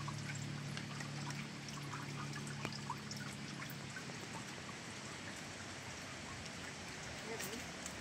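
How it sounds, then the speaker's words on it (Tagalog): Spring water trickles at a mountain shrine hung with rosaries, a faint, continuous splashing patter with a low voice murmuring briefly at the start. "Ito, may bukal po."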